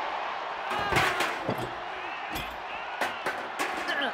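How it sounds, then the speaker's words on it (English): A body slams onto a table in the WWE 2K24 wrestling video game, one of several sharp thuds and impacts spread across the moment, mixed with crowd noise. "What a sick thud from that table"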